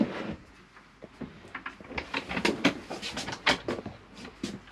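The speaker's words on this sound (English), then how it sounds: "storage in here with your pull-out cutlery drawer." A pull-out cutlery drawer in a 2020 Auto Trail Scout motorhome slides and rattles quietly, giving soft clicks and a short run of light clattering knocks, heard close and fairly faint.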